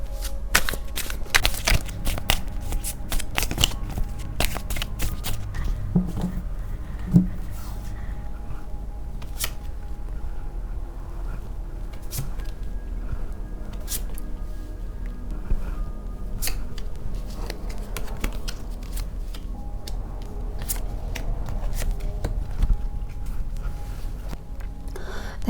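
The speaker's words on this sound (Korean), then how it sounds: "지금보다 좀 뒤의 미래를 염두에 두고 제가 카드를 뽑아볼게요." Tarot cards shuffled and drawn by hand, a continuous close riffle and slide of card stock with dense clicking flutters, busiest at the start and steady throughout, with no talking.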